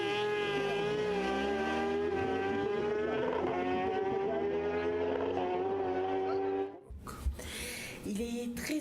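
A factory MBK scooter fitted with a nitro engine revs loudly and steadily for several seconds, its high buzzing tone holding and slightly rising before cutting off abruptly, followed by a brief burst of other noise.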